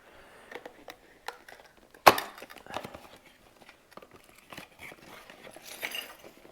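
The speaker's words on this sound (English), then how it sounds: "I already hear the keys" A Touratech lock's keys and mounting hardware are handled close by during a Garmin Zumo XT 2 install: faint scattered clicks, small clinks and packaging rustle, with one sharper crackle early on.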